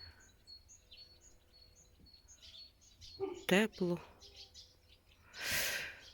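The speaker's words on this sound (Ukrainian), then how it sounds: "Пташки співають." Birds chirp and sing outdoors on a foggy morning, small repeated tweets in the distance while someone says a word up close and breathes audibly.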